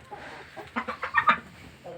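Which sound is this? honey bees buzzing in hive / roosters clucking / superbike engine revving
roosters clucking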